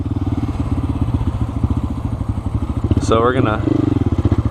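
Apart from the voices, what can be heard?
Honda Grom motorcycle engine revving for wheelies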